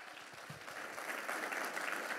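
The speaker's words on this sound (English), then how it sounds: "So please give a big round of applause to Pastor Nathan Barnett." A church congregation claps for a pastor at a Sunday service, a soft, steady patter of many hands heard from a distance.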